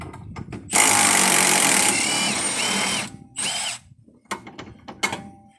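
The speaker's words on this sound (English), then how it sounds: "Maybe I could use my small impact." A small impact wrench removing trailing arm bolts on a car, several short rattling bursts followed by a long loud hammering run and further brief hits, close by, no talking.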